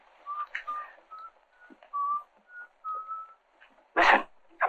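Someone whistles a simple tune, Yankee Doodle, in short clear notes with small gaps between them, followed near the end by a brief loud burst of a different sound.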